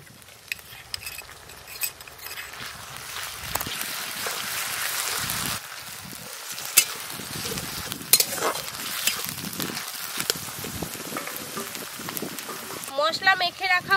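A paste of ginger, garlic, onion and green chili hits plentiful hot oil for mutton maharani, giving a close, steady sizzle and fry with scraping stirring strokes, under a speaking voice.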